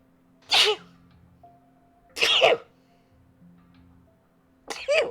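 Three sharp, close sneezes spaced a second or two apart, each a loud burst over a quiet background hum with a faint tone between them, during an online tabletop role-playing session.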